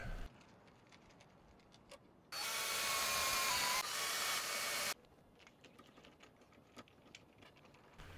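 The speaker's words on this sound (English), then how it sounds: "Then I'll take number 6 grabber screws that are 1 and 1 quarter inches long and install them into each hole that I've drilled." A power drill drives number 6 grabber screws, 1¼ inches long, into drilled holes in a board for a small wooden library box: one loud steady whir of about two and a half seconds between quieter handling noises.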